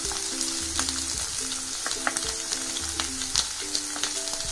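Vegetables for a vegetable pulao fry in hot oil with a steady close sizzle, broken by scattered spoon scrapes and clinks against the pan; no one speaks.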